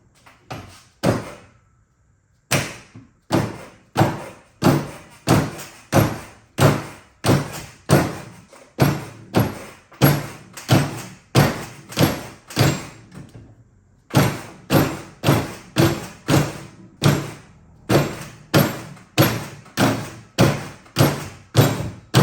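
A wrench strikes a flex head ratchet handle clamped in a vise again and again, sharp metallic whacks in a steady rhythm of about one per second, loud and close, with a short pause early on and another around the middle.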